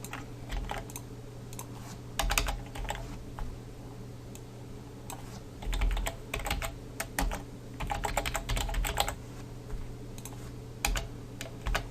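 A database query typed on a computer keyboard, with close, rapid key clicks in irregular bursts and short pauses over a low steady hum.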